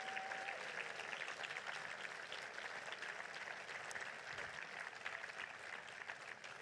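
Sustained, even applause from a large crowd at a political rally in Hannover, greeting Leyla Hatami and Steffen Krach; many hands clap in a continuous rush, heard faintly as if from a distance.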